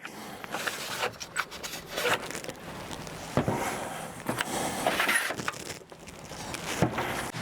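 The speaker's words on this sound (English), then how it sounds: "We'll just pull the batteries out now to have a look at them." Batteries being pulled out of a Bluetti AC180T portable power station give a run of close scraping, rubbing and clicking handling noises, with plastic knocks and sliding scuffs throughout and no talking.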